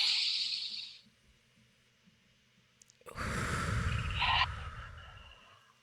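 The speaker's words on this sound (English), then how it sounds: "take a deep breath" One person draws a deep breath: a soft, hissy inhale at the start, a quiet pause, then a longer, louder breathy exhale that trails off.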